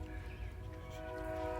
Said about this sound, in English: Excuse the train, this is Train Town.